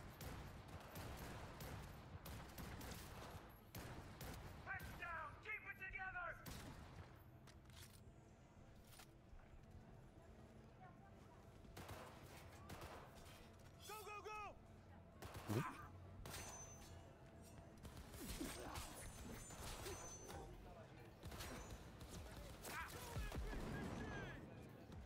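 Sporadic gunfire in a video game set in Night City, sharp cracks and short bursts scattered through a busy game soundscape with low rumbling ambience, one louder shot standing out midway.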